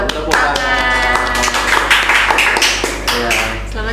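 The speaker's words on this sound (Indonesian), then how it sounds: "Tepuk tangan." A short burst of clapping in a podcast studio greets the head of the Karangasem regency election supervisory body as a guest, with a voice talking over the claps.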